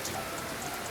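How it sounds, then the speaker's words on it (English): Steady rain falls outside, a dense even patter of drops on surfaces with no voices, close and continuous for the whole second. "but it's raining"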